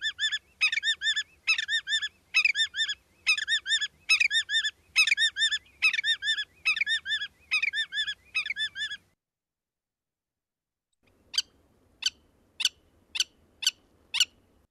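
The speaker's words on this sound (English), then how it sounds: "We got the pill will willet, pill will willet, pill will willet, or the willet, willet, willet." Willet calls in two variations: a run of about a dozen quick, loud, ringing three-part 'pill-will-willet' phrases, then a pause and five short, sharp 'willet' notes, clear and isolated with no talking.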